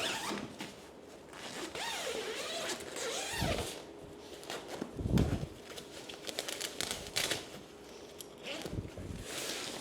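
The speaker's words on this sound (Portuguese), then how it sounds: "tem um zíper nessa primeira regulagem de altura" Zipper on a Safety 1st Falcon portable crib pulled open at the first height setting, several close, quick rasping zips among handling thumps and rustling.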